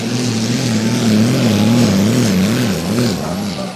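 Engine of a pulling tractor at a tractor pull in Füchtorf, revving loud and close with a wavering, surging drone that rises and dips rhythmically under strain, with broad roaring noise over it throughout.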